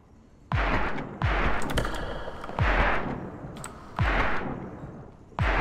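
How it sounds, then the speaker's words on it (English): Gunshots ring out in the survival horror game Perception. Five heavy, booming blasts come at roughly even intervals, each with a long rumbling tail that fades before the next one hits. "Oh, she trying to shoot me from down there, yo."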